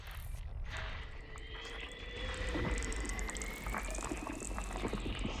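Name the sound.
bubbling water geysers in a space exploration video game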